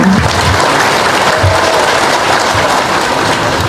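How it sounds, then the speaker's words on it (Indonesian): Steady applause from a crowd, dense clapping that holds at an even level throughout with no voices standing out. "Ya, tepuk tangan aja."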